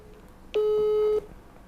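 A single steady telephone tone, loud and clean, sounds for about two-thirds of a second on a call placed at night, with brief faint beeps around it and no talking.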